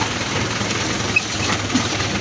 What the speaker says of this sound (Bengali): দেখো ট্রেন যাচ্ছে